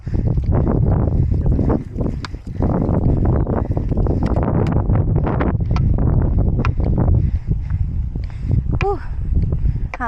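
Steady wind buffets the microphone throughout, a continuous low rumble, with some movement and faint splashing sounds mixed in, on a hike to Bomod-Ok Falls.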